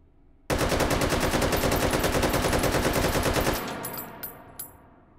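Full-auto burst from a Draco AK pistol in the VR shooter Hot Dogs, Horseshoes & Hand Grenades, a loud close rapid string of shots for about three seconds, followed by echoing decay and a few light metallic clinks of spent casings.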